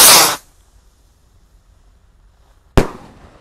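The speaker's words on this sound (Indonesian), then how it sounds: "Sudah menyala bosku roketnya, siap meluncur ya." A firework rocket launches outdoors in the late afternoon: a loud hissing whoosh at the start fades to near silence, then a second sharp burst sounds near the end.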